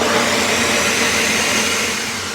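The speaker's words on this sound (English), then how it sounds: "All right, hit the blender." A kitchen blender runs continuously, loud and close, as it purees Puerto Rican-style sofrito, a steady whirring motor roar that eases slightly toward the end.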